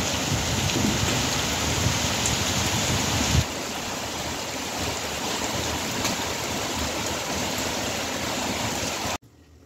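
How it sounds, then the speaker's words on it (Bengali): Rain falls in a loud, dense, steady hiss close by, easing slightly after a few seconds and continuing evenly until an abrupt cut near the end. "ওদিকে শুরু হয়ে গেছে বৃষ্টি"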